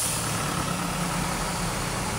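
A big truck engine rumbles steadily in heavy traffic on the Maharlika Highway near Ragay, Bicol, where road works slow the flow, a continuous loud low drone with no talk over it.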